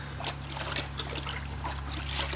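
Aquarium filter media from a catfish pond filter being rinsed in water, giving a steady close trickle and light splashing with a constant low hum underneath.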